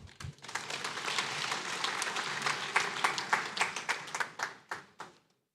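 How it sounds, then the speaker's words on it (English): Audience applause at a regional governors' forum in Maiduguri, a dense wash of clapping that builds, peaks with sharp individual claps near the end, then fades to silence after about five seconds. "Encore sous vos applaudissements"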